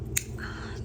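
Scissors snipping fresh leaves from a plant outdoors in a California park, giving one sharp, close clip over a steady low background rumble.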